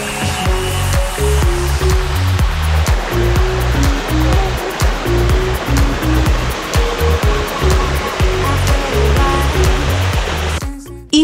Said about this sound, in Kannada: ನೀರು ಹೇಗೆ ಬೀಳ್ತದೆ, ಫೋರ್ಸ್ ಎಲ್ಲ ನೋಡ್ಬೋದು